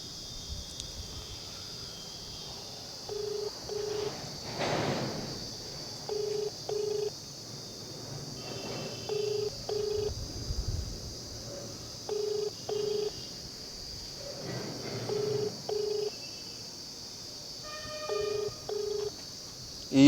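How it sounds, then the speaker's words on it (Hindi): A phone call being placed, with paired electronic beeps repeating every few seconds over a faint hiss and a few low thumps, and no speech. "मैं लगाता हूं फ़ोन एक बार, फिर से पूछता हूं कि आखिर हुआ क्या यहाँ पे।"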